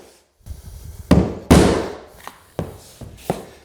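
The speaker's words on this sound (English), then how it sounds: "you lay it down, and you hammer it together" Laminate flooring boards are knocked together with a tapping block and hammer, giving a short series of sharp, loud wooden whacks with uneven spacing and quick decay, close by and with no voices.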